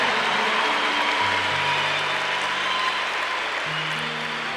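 Audience at a Catholic talk applauding steadily throughout, a dense continuous wash of many hands with no voices on top, with a low drone also running underneath.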